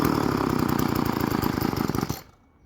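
A Stihl FS 36 string trimmer's small two-stroke engine runs loud and close with a rough, pulsing idle for about two seconds, then cuts out abruptly into quiet.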